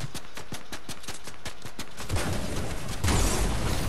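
Rapid gunfire cracks give way to a loud, roaring blast as a car explodes, swelling and rumbling on, a video game explosion heard up close.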